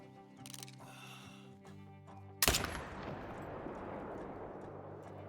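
A single sharp rifle shot from the AR-223 in the hunting game Call of the Wild, a sudden loud crack midway followed by a rolling echo and decaying tail, with quiet game ambience before it.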